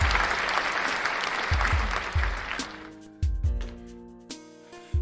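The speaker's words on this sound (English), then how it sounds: "give you guys a round of applause for making another week" A round of applause on a podcast episode opens as dense clapping and fades after a few seconds, giving way to low rhythmic thumps and sustained tones, likely a music bed, near and moderately loud.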